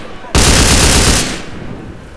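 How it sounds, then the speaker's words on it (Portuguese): Loud, dense burst of gunfire from enemies in a GTA San Andreas zombie mod, a sudden wall of rapid shots lasting under a second that tails off into a quieter background. "Ah, já tem uns miserentos atirando."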